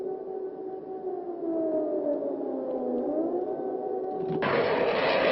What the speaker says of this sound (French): où les sirènes n'arrêtent pas de retentir